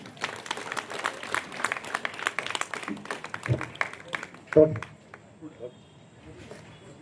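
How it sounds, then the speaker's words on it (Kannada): An audience at a Basava Jayanti celebration gathering claps loudly for about four seconds, a dense patter of many hands that thins and fades, with a voice audible as it dies away. "ಜೋರಾಗಿ ಚಪ್ಪಾಳೆ ಹಾಕ್ರಿ ಅವ್ರಿಗೆ"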